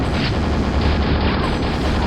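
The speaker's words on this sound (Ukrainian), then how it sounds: "Зараз ми йому вальнемо з супернейлгану" Super nailgun firing in the Quake video game, a loud, continuous rapid stream of mechanical shots blending into a dense, roaring barrage that holds steady throughout.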